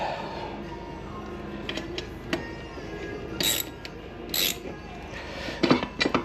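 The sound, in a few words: removing brake caliper on a 1996 Harley Davidson with tools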